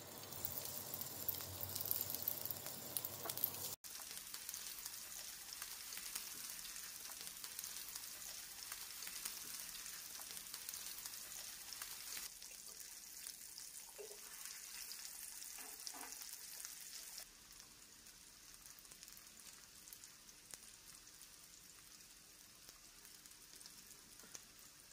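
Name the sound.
meatballs frying in oil in pan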